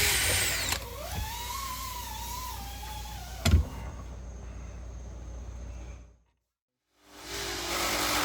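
A power drill whines steadily with a rising then falling pitch while boring into a dashboard plate for a 1999 Triton 180 boat, with a sharp clunk partway through and a brief silence before the motor starts again.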